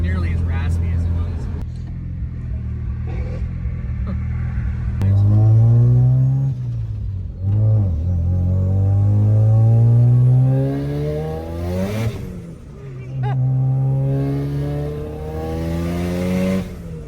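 Rotary engine of a Mazda RX-7 with a newly fitted exhaust, heard from inside while driving, rising and falling through several revving pulls with a smooth, loud drone, and people talking over it throughout.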